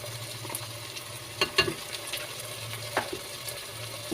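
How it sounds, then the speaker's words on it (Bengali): Beef tripe frying in a pan with garlic and ginger paste, a soft steady sizzle broken by scraping stirs and clinks of a utensil, no talk. "এখন আমি এটাকে আবার একটু ভেজে নেব"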